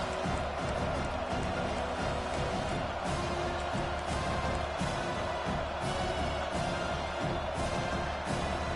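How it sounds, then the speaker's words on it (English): A home crowd in a college football video game roars steadily at a distance as a broad, dense wash of noise, holding the same level throughout with no clear breaks, with no talk over it. "Here comes this home crowd"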